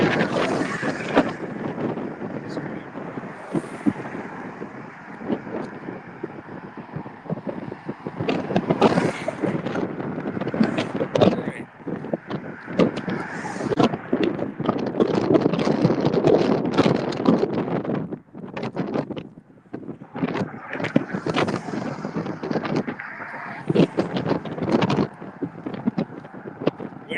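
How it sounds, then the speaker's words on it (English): Gusty wind buffets the microphone near a bridge on a boat ride in Key West, roaring in loud bursts with brief lulls between them. "Wind's picking up."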